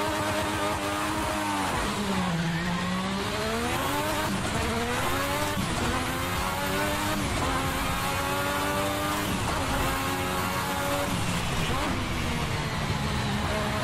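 A Williams Honda FW11 Formula One car lapping Kyalami in Assetto Corsa with an H-pattern six-speed gearbox, its engine screaming loud and close as revs climb and drop repeatedly through upshifts and downshifts for the whole stretch.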